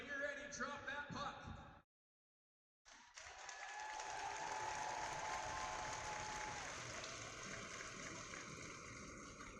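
Crowd applause and cheering fill a hockey arena at a BYU versus Weber State game, a loud sustained roar that cuts out briefly, then swells back and continues broadly.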